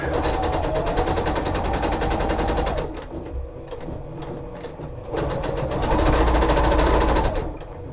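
A sewing machine runs in loud, rapid bursts of stitching, pausing briefly in the middle before whirring back up at full speed.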